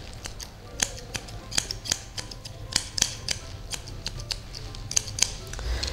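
Grooming scissors trim the fur on a Shih Tzu's front leg, rounding the paw. About a dozen crisp, close metallic snips come in an irregular rhythm over quiet room tone.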